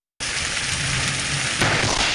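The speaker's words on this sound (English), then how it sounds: "You can see the hail pounding the ground seconds before the huge lightning strike." Heavy hail pounding the ground in an afternoon thunderstorm, a dense steady roar of impacts that carries on without a break and swells slightly near the end.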